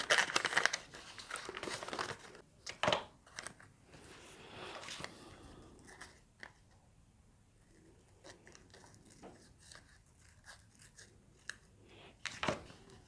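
Scissors trimming fretboard markers make close, soft snips and crinkling, with irregular cuts and rustles of material spread over the clip at a moderate to faint level.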